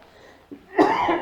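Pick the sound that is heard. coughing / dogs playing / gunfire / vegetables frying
coughing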